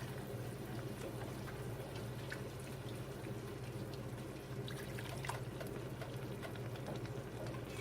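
Oxtail broth is spooned from a pot into a dish with a soup spoon, making faint liquid trickles and small drips over a low background hum, without any talking.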